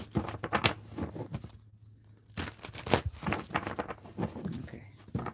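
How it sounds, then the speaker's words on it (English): Playing cards are shuffled in quick bursts of riffling and flicking, close up, with a brief pause in the middle before more rustling resumes. "I gotta shuffle some more since I done dropped some cards down"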